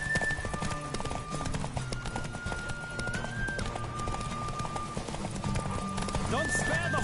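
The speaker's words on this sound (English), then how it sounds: "Don't spare the horse!" Rapid hoofbeats of a horse in The Witcher 3: Wild Hunt video game clatter in a galloping rhythm while a voice talks over them and music plays along.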